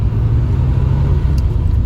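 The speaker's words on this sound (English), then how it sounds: "We'll just give you a buzz of the road in the lovely little Triumph GT6 we've got on offer today." Loud, steady low engine rumble of a 1971 Triumph GT6 sports car driving along the road, heard from close by with constant road noise and no voices.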